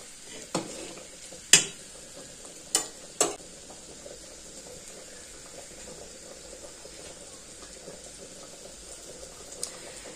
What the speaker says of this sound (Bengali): আর এদিকে আলু আর পেঁপে ভাজা করছি